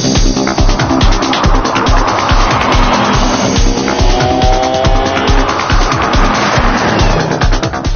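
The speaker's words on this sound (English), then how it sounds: "So there it is, the Bugatti Veyron, the first supercar of the 21st century." A Bugatti Veyron supercar's engine roars loudly and continuously, with rising revs and driving noise throughout, close and dense with no talk.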